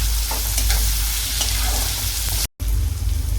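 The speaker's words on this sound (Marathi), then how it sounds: "कांदा चांगला लालसर होईपर्यंत चांगला परतून घेणार आहे" Onions stir-fried in a pan for potato bhaji give a steady, close sizzle with scraping stirs, broken once by a brief cut to silence.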